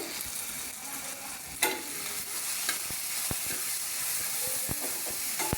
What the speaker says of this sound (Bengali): টমেটোগুলোকে পুরো গলা পর্যন্ত এটাকে কুক করতে থাকবো